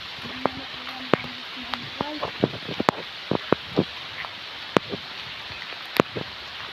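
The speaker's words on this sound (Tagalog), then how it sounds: "Lumalakas na ang ulan." Rain that is growing heavier falls steadily outdoors on an unpaved path, a soft continuous patter broken by scattered sharp drops and knocks, with brief muffled voices in the background.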